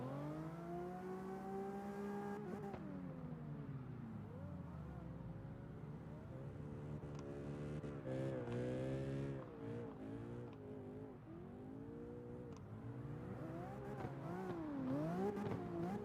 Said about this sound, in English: And I hear some engine sounds in there.